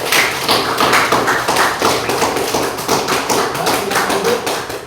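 Classroom applause from a group of students, a dense, steady run of claps filling the room for about five seconds at close range.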